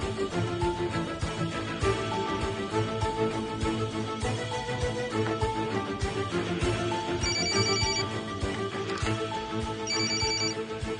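A telephone ringtone chirps in two short bursts, clear and fairly high-pitched, over background music in a dramatic indoor scene.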